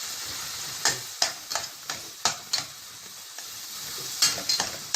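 Onions sautéing in a pan for spleen with onion and coriander, a soft sizzle broken by a series of sharp, irregular spatula taps and scrapes against the metal, close and dry.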